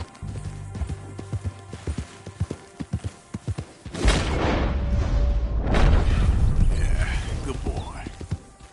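A horse in Red Dead Redemption 2 first walks with clear, evenly spaced hoof thuds, then breaks into a louder, rushing gallop with heavy pounding and wind, while someone speaks briefly.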